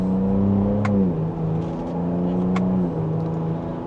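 A 2025 Ford Ranger Raptor pickup in sport mode, second gear, accelerates hard from inside the cab, its engine note climbing steadily with two brief dips at upshifts, loud and continuous.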